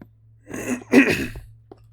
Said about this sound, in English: Sorry if you hear me clearing my throat a whole bunch.